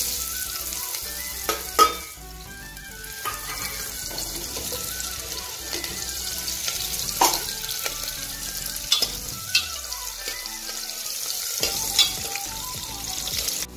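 Onions and tomatoes cook in a pan on a gas stove, with a steady sizzle, scattered stirring clinks and scrapes, and a stretch of water running in the background.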